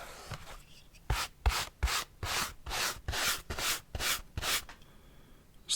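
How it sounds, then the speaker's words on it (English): A brush rubs against a stiff felt hat up close in rhythmic strokes, about a dozen rough, scratchy sweeps in a steady back-and-forth pattern, quiet and without voices. "the way the brush sounds against this stiffer felt"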